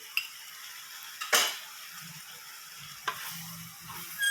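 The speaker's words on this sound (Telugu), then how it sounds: "దీన్ని బాగా కలపాలి." A spoon scrapes and clinks through spicy mutton tripe curry in a pan, a few sharp stirring scrapes over a soft, steady sizzle, close and fairly quiet with no talking.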